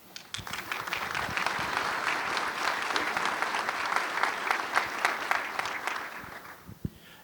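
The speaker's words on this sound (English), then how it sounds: "how about a round of applause for operating during COVID?" Applause from an industry forum audience honoring petrochemical plant operators for working through COVID, steady dense clapping for several seconds with a few sharper claps standing out, fading near the end.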